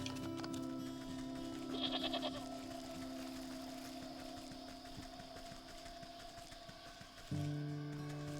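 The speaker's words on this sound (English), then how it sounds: "Stupid goat." Goat bleating in the game Wytchwood, a short wavering bleat that stands out briefly over a steady tonal game music bed, followed by a shift in the background tones.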